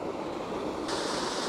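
Steady broadband rush of a waterfall beside a trout stream, loud and continuous throughout with no speech, the water noise brightening slightly toward the end.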